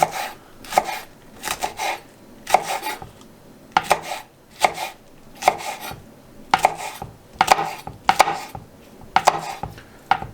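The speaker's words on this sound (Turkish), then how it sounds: "Şu şekilde sivri biberimi doğruyorum." A knife chops long green chili peppers on a cutting board in steady bursts, each a cluster of sharp, close taps, repeating about every second with short pauses between and no talking.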